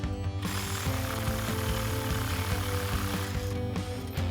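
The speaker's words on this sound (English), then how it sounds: "grab an 18mm socket and pull that off" An 18mm nut on the steering stabilizer bolt of a Jeep Gladiator JT is run off with a socket on a power tool, giving a loud, steady mechanical chatter with rapid hammering pulses that lasts the whole stretch.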